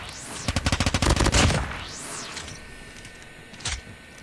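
Automatic BK57 rifle firing in a ranked shooter match: a rapid, loud burst of about a dozen closely spaced shots, then a sweeping whoosh and a single later crack, with no talk.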